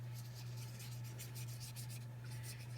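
Glitter is rubbed by hand onto a Christmas card, producing soft, faint, repeated scratchy strokes in a steady rhythm over a low hum, with no talking.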